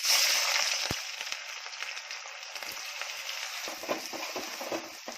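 Chopped onion dropped into hot oil in a pan for chicken curry, a bright sizzle flaring up loudly at first, then settling into a steady hiss with occasional crackles and stirring scrapes.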